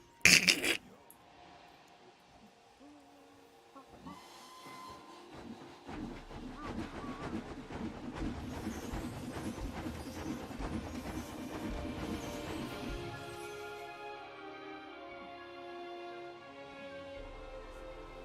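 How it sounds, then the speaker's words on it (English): A train runs along with a rhythmic clatter that builds and fills the middle stretch, then breaks off into the scattered noise of a crash, opening with a sharp burst and trailing into fainter rattles. "Test the train. It's always fun to watch it crash."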